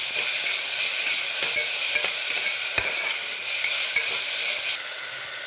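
Green chilies and chopped tomatoes sautéing in a pan for a millet vegetable biryani, with a steady broadband sizzle and a few sharp clicks of a spoon against the pan, all close and continuous with no talk.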